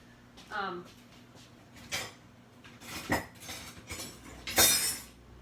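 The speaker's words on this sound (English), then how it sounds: "Let me grab a spoon so I can get the rest of it out of there." A metal spoon scrapes and clinks against a glass jar of canned chicken soup starter, several separate short scrapes and knocks spaced out at a moderate level with room hum behind.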